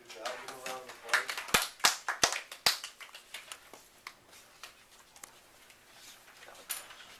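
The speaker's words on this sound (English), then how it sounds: "give a round of applause" A classroom of students gives a brief round of applause after a group's ad presentation, scattered sharp claps peaking then thinning out, with voices murmuring underneath.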